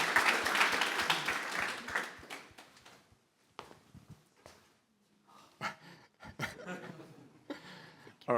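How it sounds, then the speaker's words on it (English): Conference audience at a search and AI forum gives a short burst of applause that fades after a few seconds, followed by scattered chuckles and laughter with voices talking. "a round of applause for our first new fish"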